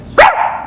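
A person imitates a dog with a single sharp, loud vocal bark that trails off into a short, fading tail, heard alone indoors.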